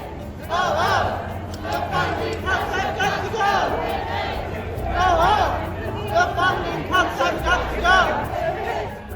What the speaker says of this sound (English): Chants echo through the streets as the crowd calls for stability in federal programs